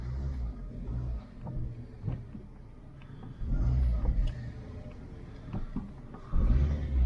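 A Fiat Bravo's engine rumbles faintly from inside the moving car. Its low drone swells in two short surges as it revs, set against quiet road and cabin noise.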